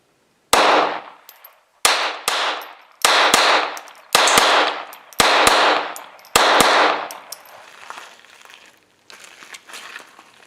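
A Smith & Wesson M&P 22 pistol fires six sharp, close, cracking shots at roughly one-second intervals, each followed by a short ringing tail and some faint clatter, with quieter rustling afterward.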